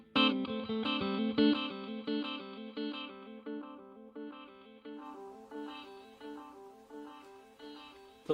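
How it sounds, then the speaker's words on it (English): An electric guitar plays through a Donner delay and reverb combo pedal, with its echo repeats trailing the notes. The tone of the repeats shifts partway through, going from a louder, fuller start to softer, brighter echoes. "I'm just trying to let you hear the difference in the tone for the repeats of the echo"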